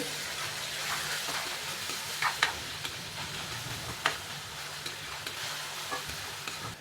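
Chopped green chillies are stirred into a frying potato mixture in a pan. A steady sizzle runs throughout, broken by occasional spoon scrapes and light clinks.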